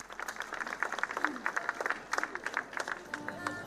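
A crowd claps and cheers at a wedding celebration in Wittenberg, with rapid scattered handclaps and voices blending into a lively, moderately distant burst of applause.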